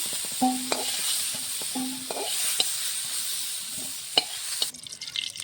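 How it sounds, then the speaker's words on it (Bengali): Cauliflower fries in a pan with a steady hissing sizzle, broken by a few soft clinks and scrapes of stirring and a brief rattle near the end. "কপিটা লাল লাল করে ভাজা হয়ে গেছে, নামিয়ে নেব।"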